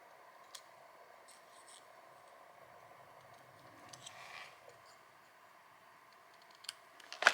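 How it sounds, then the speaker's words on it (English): Scissors snip through paper at a crafting table, with faint scattered clicks and light handling noises over a quiet background and a sharper cut near the end. "I'm just going to use my scissors."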